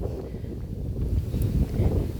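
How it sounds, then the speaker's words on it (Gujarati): Strong wind buffeting the microphone outdoors at a pillar-trellised dragon fruit orchard, a steady low rumble that keeps surging louder in gusts throughout, with no voices. "પવન બહુ આવી રહ્યો છે એટલે થોડો થોડો અવાજ પણ આવશે પવનનો"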